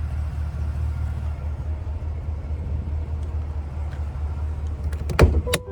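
Power windows on a 2024 Cadillac Escalade Premium Luxury whirring under a steady low cabin rumble, with a brief motor burst and clunk near the end.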